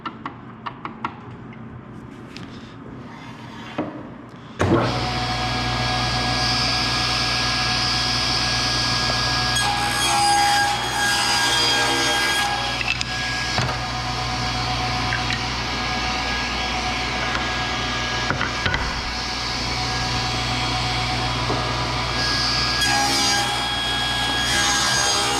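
A saw makes rip cuts along a wood board with push sticks, a steady loud whine and rasp running for over twenty seconds after a few faint knocks at the start, with no voices.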